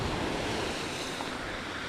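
Hurricane floodwater splashes up onto the curb and sidewalk of a flooded street, making a steady, dense, loud rushing wash mixed with wind noise, with no voices heard.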